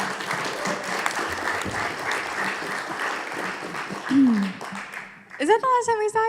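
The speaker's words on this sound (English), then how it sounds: "a round of applause for Cassandra." Steady applause from a crowd at the Gopherpalooza 2018 conference fills most of the clip, fairly loud, then fades as a voice begins speaking at the end.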